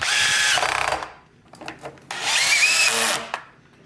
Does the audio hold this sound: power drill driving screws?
yes